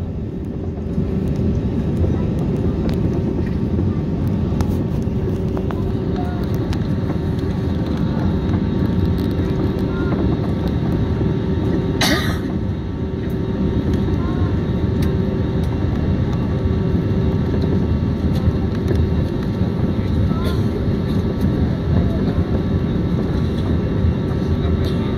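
Airliners at Tan Son Nhat airport in Ho Chi Minh City give off a steady, loud engine roar that holds for the whole stretch, with a brief sharp transient partway through and no talk.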